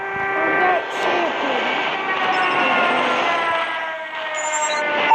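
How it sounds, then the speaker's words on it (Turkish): A stealth chopper flies over a Call of Duty Mobile team deathmatch, its steady droning engine holding loud and continuous under the game's busy effects. "Friendly stealth chopper inbound."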